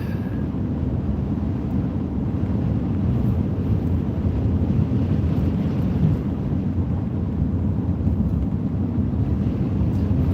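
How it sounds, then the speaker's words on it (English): Strong outdoor wind buffets the microphone as a steady, loud low rumble with gusty swells throughout and no talking. "I'm telling you, it's windy as crap"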